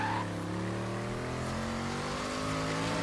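A Chevy Impala SS with a 409 blown big block races in Forza Horizon 3, its engine holding a loud, steady roar with layered harmonic drone throughout, no talking over it.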